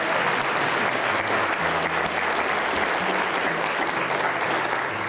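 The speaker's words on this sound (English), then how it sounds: "Let's give these guys a round of applause." Audience at a school spelling bee applauds in sustained, dense clapping that fills the whole stretch, loud and close, with a faint murmur of voices underneath.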